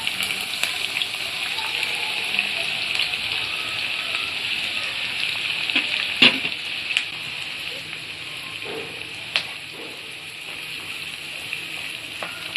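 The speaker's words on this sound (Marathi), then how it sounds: "कांदा चांगला परतून घ्यायचा आहे आपल्याला।" Chopped onion and garlic sauté in hot oil in a pan, a steady broadband sizzle running throughout with a few sharp clicks and pops from stirring, no voices.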